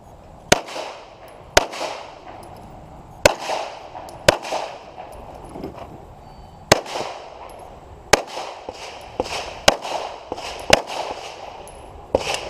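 Pistol shots at an IDPA shooting match at Mecklenburg Wildlife Club, fired from a batch of ammo prone to malfunctions: about nine loud, sharp reports in an uneven rhythm, with fainter pops and range noise between them.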